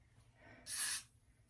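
A spray bottle misting onto a lace closure wig during an install gives one short, soft hissing burst lasting under half a second, close and alone in an otherwise quiet room.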